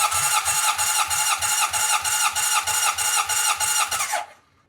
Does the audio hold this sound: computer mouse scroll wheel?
no